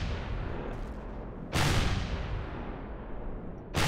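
Artillery cannons fire in the space game Empyrion Galactic Survival: two heavy, booming blasts about two seconds apart, loud and close over a steady rumbling background, with no talk.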